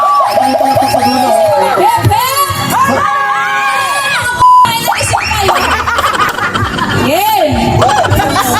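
A restobar crowd in San Leonardo, Nueva Ecija, cheering, shouting and laughing loudly and close by, with a host's voice talking over the noise and a short sustained tone cutting in midway.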